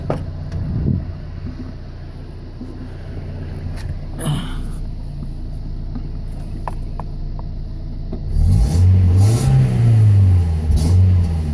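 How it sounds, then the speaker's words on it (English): A 1990 Mazda Miata with a stock exhaust idles steadily for several seconds, then revs in a few quick blips that rise and fall as the throttle is pressed, close and loud, with no talking. "I'm going to get in and just rev it a little bit, just so you can hear it. The exhaust is all stock."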